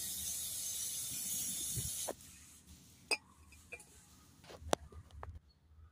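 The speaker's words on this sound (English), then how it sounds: "We just give it a bit of clean up with some brake cleaner." Brake cleaner sprayed onto an AdBlue injector from a Land Rover Discovery Sport 2.0d, a steady close hiss lasting about two seconds, followed by a few faint knocks and clicks of handling.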